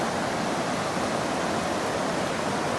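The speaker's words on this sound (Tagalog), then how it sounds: "Ingay ng tubig oh." A waterfall in Canada gives a steady, dense roar of rushing water, loud and continuous and with no breaks or other sounds standing out.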